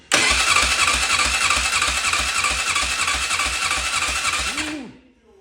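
The engine of a Polaris Magnum 500 ATV cranks with the throttle held open: a loud, steady, rhythmic whirring churn of the starter turning the motor for about five seconds without catching, then winding down and stopping.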